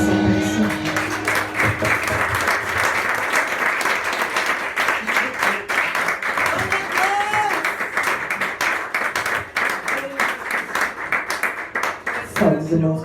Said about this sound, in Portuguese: E as palmas são para o Senhor.